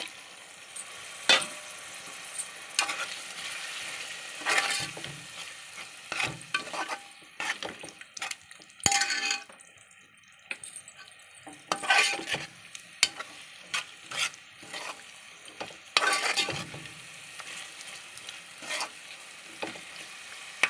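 Washed goat tripe frying in oily masala in a pan, with a loud, close sizzle and repeated stirring scrapes and bursts of spattering throughout.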